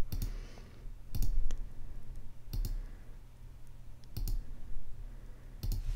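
Computer mouse clicks sharply and close by while the pen tool is used in Adobe Illustrator, a handful of distinct single and double clicks spaced irregularly over a low hum.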